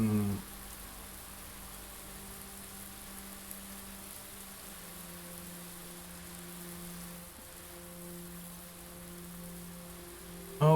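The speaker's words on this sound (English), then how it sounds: "why is there like this rain sound? But we turned on the water last time we were in here." Soft continuous patter of water running like rain inside a greenhouse in the Blue Prince video game, faint and even, with low steady tones underneath and a brief bump near the end.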